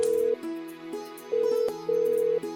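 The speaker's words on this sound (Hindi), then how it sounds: "नीचे फोन लगा और बात कर।" A telephone call is placed: steady electronic dial and ringback tones switch in a regular on-off pattern, clear and close, with no voices.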